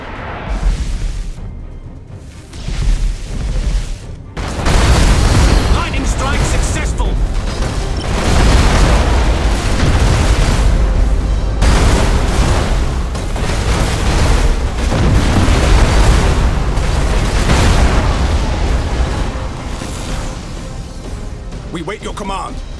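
Spaceship guns and explosions in the space battle game Battlefleet Gothic Armada make loud, dense, rumbling booms that run almost continuously after a brief quieter opening.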